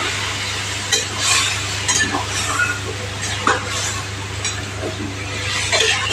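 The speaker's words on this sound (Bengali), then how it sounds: "চলো এখন সবজিটাও ভাজা ভাজা হয়ে গেছে।" Vegetables fry in a pan with a constant hissing sizzle, while scattered scrapes and taps come from stirring. A low, steady hum runs underneath the whole time.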